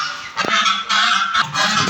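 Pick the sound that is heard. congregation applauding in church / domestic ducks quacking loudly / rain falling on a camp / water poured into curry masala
domestic ducks quacking loudly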